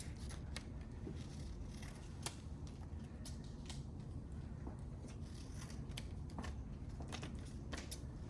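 Scissors cut paper present shapes close by, a steady run of quiet snips and paper rustles over several seconds, with no voices.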